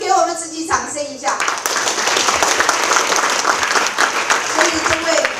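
An audience breaks into loud, sustained applause at an environmental awards event after someone speaks briefly at the start, the clapping filling the room for several seconds.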